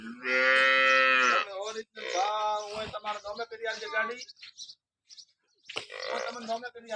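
A cow lets out a long, loud moo up close at a cattle sale of nine freshly calved cows, then someone talks over quieter farm sounds, with another brief low call near the end.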